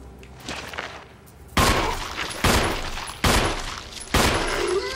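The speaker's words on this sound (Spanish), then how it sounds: "le di cuatro balazos" Four loud, sharp gunshots in Resident Evil HD Remaster ring out at roughly even intervals over a low background rumble, with a few fainter crackles before them.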